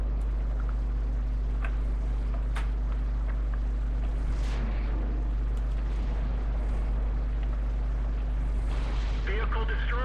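Tank cannon fire in the World of Tanks video game, a heavy booming blast rising out of a constant low engine drone and rumbling battle noise, with faint voice-like sound in the mix.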